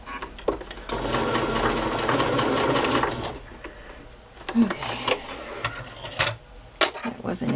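A sewing machine stitches through paper card for a scrapbooking project, running in a continuous loud burst of about two seconds, then quieter clicks and handling as someone talks nearby.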